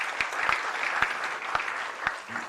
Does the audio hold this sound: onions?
no